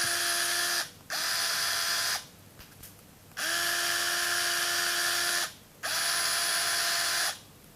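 Hoto 3.6V cordless screwdriver running in three separate bursts, each a close, steady high-pitched motor whine that spins up quickly, holds and then cuts off, with short silences between bursts.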